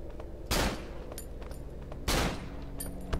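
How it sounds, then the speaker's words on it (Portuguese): Two loud pistol shots ring out in the horror video game Cry of Fear, spaced about a second and a half apart, each a sharp broadband crack with a short decay over steady low background ambience. "dois tiros de pistola"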